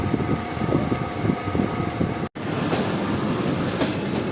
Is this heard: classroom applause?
no